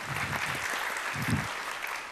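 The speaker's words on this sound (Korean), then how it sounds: "하나님께 함께 영광의 박수 올려드리겠습니다" Congregation at a Korean youth worship service claps together in praise, a steady, full wash of many hands at moderate distance with a faint murmur of voices underneath.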